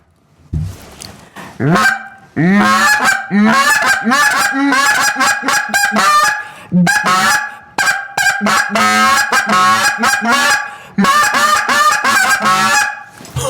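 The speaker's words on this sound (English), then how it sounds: "Now give me a little goose call." A high school student blows a goose call, producing a long run of loud, honking goose-like notes in quick, uneven bursts with short pauses, heard alone and close up.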